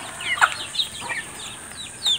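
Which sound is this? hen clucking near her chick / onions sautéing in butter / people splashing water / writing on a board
hen clucking near her chick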